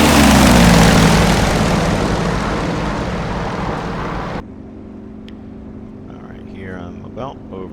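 A Yak-52 propeller plane in the DCS flight game, its engine droning loud and steady in flight before dropping abruptly to a quieter, even cabin hum, with faint voice-like sounds near the end.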